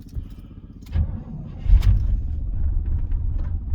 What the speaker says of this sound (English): Give it a little throttle. I want the oil pressure to come up.